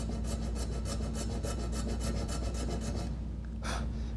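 A small file rasps steadily along the bottom of a guitar nut slot, a continuous close scraping of repeated strokes that stops briefly near the end.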